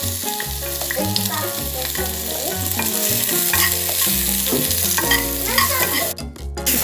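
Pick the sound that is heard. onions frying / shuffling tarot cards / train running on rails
onions frying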